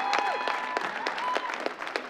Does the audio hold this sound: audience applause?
yes